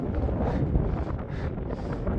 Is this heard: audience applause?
no